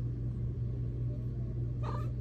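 A cat gives a short, brief meow near the end over a steady low indoor hum, faint and close, with no talking.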